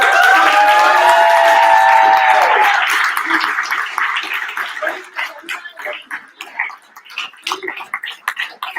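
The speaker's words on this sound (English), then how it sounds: "A big round of applause and shout out for the people who made this event possible." A crowd at a startup pitching event in Chisinau applauds and cheers, a loud dense wash of clapping and whoops at first that thins into scattered individual claps and some voices toward the end.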